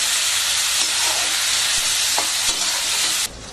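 Chopped tomatoes and turmeric powder sauté in hot oil for coconut tomato rice, a loud, dense, close sizzle with stirring that holds steady before dropping off sharply near the end.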